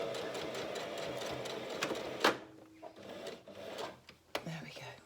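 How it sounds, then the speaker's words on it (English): A sewing machine runs in a brief burst of stitching along a seam, close and fairly soft, then stops, followed by handling clicks and a voice talking. "So I've now sewn from where the stitching stopped before down to the bottom."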